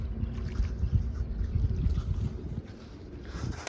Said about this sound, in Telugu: చాలా అంటే చాలా స్పీడ్గా పోతున్నాయి